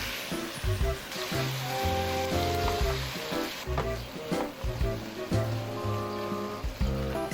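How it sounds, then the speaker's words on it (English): Marinated rice cakes coated in chili powder stir-fry in hot oil, crackling and sizzling steadily with stirring clatter and scraping throughout, close and lively with no talking. "So we're gonna deep fry them or actually stir them in oil."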